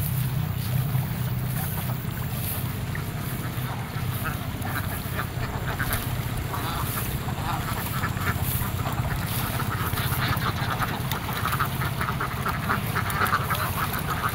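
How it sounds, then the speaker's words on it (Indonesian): Ducks quack around a harvest-season rice field beside an irrigation channel, many calls overlapping in a steady, busy chorus with water noise and a faint motor hum underneath. "Di sini banyak bebek Baraya"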